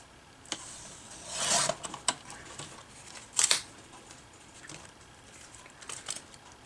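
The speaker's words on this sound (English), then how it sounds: "after that I'll cut the excess." Scissors cut away the excess from paper card in a few sharp, close snips. Quiet handling rustles fill the pauses between the cuts, and no one talks.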